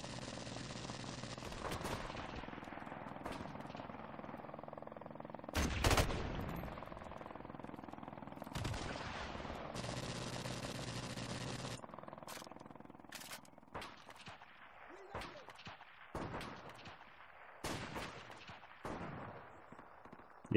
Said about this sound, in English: Yeah, there are a lot of snipers out. Yeah, they're all sniping.